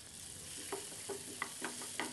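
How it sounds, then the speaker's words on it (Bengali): Chopped onions frying lightly in a little mustard oil in a pan make a soft, quiet sizzle, punctuated by several light spatula scrapes and taps in an irregular rhythm; no voices. "একটা প্যানে আমি কেটে রাখা পেঁয়াজ দিয়ে দিলাম, সামান্য একটু সর্ষে তেল দিলাম।"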